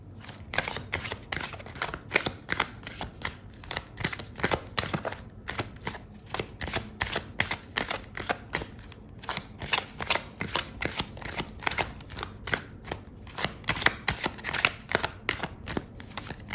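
Tarot cards are shuffled close by in quick, crisp riffling bursts, a rapid papery flutter repeating steadily for the whole stretch, with no voice over it.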